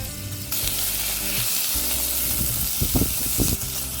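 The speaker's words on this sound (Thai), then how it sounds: "เราก็หมูลงไปผัดเลยค่ะ วันนี้เราใช้เป็นสันคอหมูนะคะ" Sliced pork neck stir-frying with curry paste, a loud close hiss and sizzle throughout, broken by several clattering stirs of a spatula toward the end.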